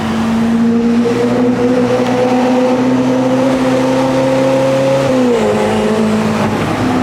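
A powerful sports-car engine drones loudly and steadily at high revs, its pitch holding then dipping briefly as it shifts, with no talking.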